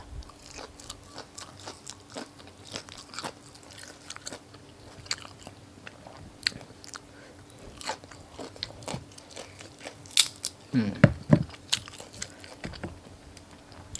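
Crispy grilled pork being bitten and chewed close up at a Thai Isan meal with long-bean papaya salad, a series of soft crunches and chewing sounds with a louder burst of crunching near the end, no talk.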